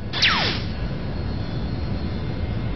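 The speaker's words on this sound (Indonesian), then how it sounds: "Dan sekarang Rio mengejar Asuka dengan menggunakan jet gamma" Gamma jet from Ultraman Dyna streaking past: a quick descending whoosh in the first half second, then a steady engine roar under low rumbling noise for the rest, no talk.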